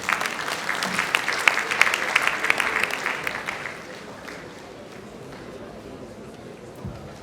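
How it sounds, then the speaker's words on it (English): Audience applause at a lecture hall event, a dense round of clapping for about four seconds that then thins out into a quieter room murmur. "A round of applause for him again."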